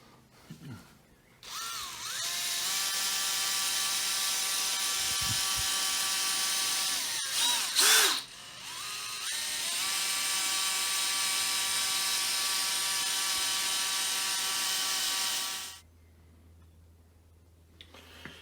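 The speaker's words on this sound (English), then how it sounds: "went over with the polishing wheel" A polishing wheel runs on aluminium Yamaha XV1900 Stratoliner motorbike forks, a loud steady high whine lasting many seconds, with a brief break in the middle where the pitch sags and picks up again, then it spins down to quiet.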